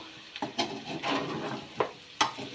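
Mutton stirred with chili powder in hot oil in a spicy home-style dish, a quiet sizzle broken by a few sharp scrapes and knocks of the spoon against the pan, no talking.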